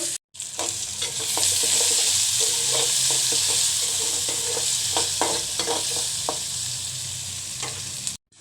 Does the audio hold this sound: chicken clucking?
no